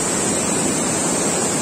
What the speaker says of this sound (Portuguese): E essa cachoeira, quase ninguém vem, porque ela fica bem escondida.